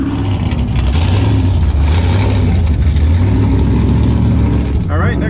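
Drag race cars launch down a quarter-mile strip with a loud, sustained engine roar that holds steady at close range, then briefly shifts pitch near the end.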